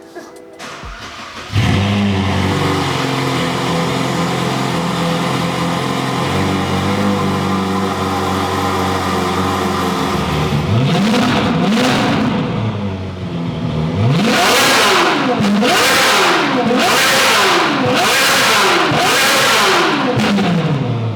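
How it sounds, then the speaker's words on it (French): A Ferrari 458 Liberty Walk with a full Novitec exhaust starts with a bark, idles with a deep rumble, then revs repeatedly in sharp, loud bursts through a throaty exhaust, very close. "on va démarrer la 458 Liberty Walk avec la ligne d'échappement complète Novitec"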